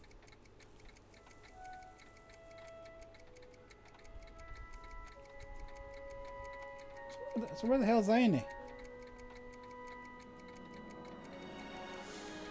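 A clock tower ticks steadily in a Back to the Future video game town scene, an even, regular tick running the whole time beneath background music, with a voice speaking briefly near the middle.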